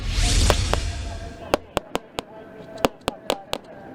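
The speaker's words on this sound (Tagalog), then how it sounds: "Magkakasunod na putok ng baril ang umalingaw mula sa barkong MV Scalawag habang nasa Manila Bay kanina" A rapid series of sharp gunshot cracks, about ten in quick succession, ringing out from a ship on Manila Bay after a burst of broad noise.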